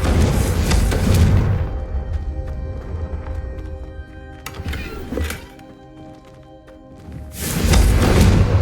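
Fire-spell blasts from the Confringo charm in Hogwarts Legacy: loud, broad whooshing bursts at the start and end, with a sharper thud and crackle between them over a quieter background.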